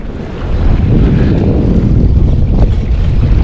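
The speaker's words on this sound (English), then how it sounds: "you can see how the kayak is just kind of sloshing through this" An ocean kayak sloshes through waves off the Oregon coast. Loud, dense water wash and wind buffeting on the mic carry on continuously without any talking.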